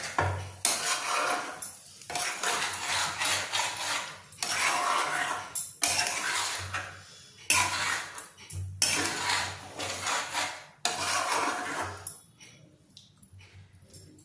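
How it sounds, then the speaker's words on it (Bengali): A spoon stirs sour yogurt briskly in a bowl, making repeated bursts of scraping and clinking with short pauses between them, close and fairly loud. "এবার আমি ভালো মতন টক দইটা একবার মিশিয়ে নিয়ে"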